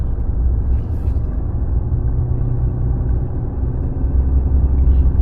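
A Ram 2500 Cummins diesel pickup with a 6-inch lift and 37-inch Nitto Terra Grappler tires ploughs through over a foot of snow in a snowstorm, a steady, loud, low engine and road rumble throughout with no talking.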